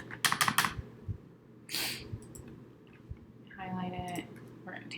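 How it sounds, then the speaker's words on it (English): Computer keyboard typing during a Canva design session, bursts of quick clicking keystrokes up close, broken by pauses and a short stretch of a voice. "I wonder if my keyboard's going dead."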